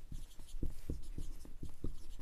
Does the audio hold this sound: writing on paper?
yes